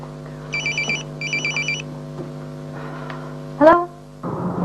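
A phone rings with two bursts of electronic trilling tones over a steady electrical hum, followed by a sharp rising chirp and some rustling.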